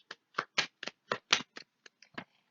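Tarot cards are shuffled by hand for a reading, giving about ten crisp, close riffling bursts in an irregular rhythm, each short and separated by brief quiet gaps.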